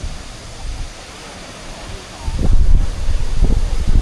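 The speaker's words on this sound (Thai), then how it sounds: "เป็นน้ำตกผูเนาะ" Water rushes over a waterfall at Tad Fan resort, a steady broadband roar heard from nearby that swells louder in the second half, with wind buffeting the microphone.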